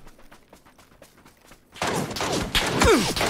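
Video game gunfire bursts sharply after a quiet stretch, with rapid cracks and thumps piling into a dense, loud fusillade over the final half of the clip.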